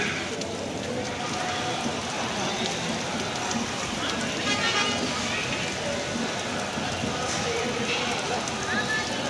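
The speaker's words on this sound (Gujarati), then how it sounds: "જો આ વરસાદે ચાલુ થઈ ગયો છે" Rain falling at a village gathering during evening aarti, a dense, steady patter on surfaces throughout, with faint voices murmuring underneath.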